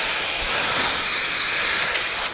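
Spray adhesive is sprayed onto upholstery foam for a channel-tufted headboard in a loud, close, continuous hiss, with a quick pause near the end before a final short burst.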